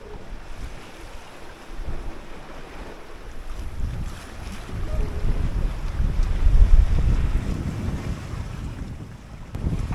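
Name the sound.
strong wind and waves on sailboat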